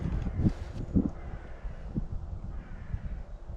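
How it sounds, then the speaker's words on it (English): Harsh cawing calls from crows or similar birds, several sharp repeated caws at moderate distance over a low outdoor rumble. "there's bird song, which you don't normally hear up here"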